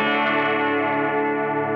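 An electric guitar played through a Line 6 HX processor with a Memory Man style delay, mod chorus echo, chamber reverb and noise gate rings out as a sustained, shimmering chord with echoing, chorused tails.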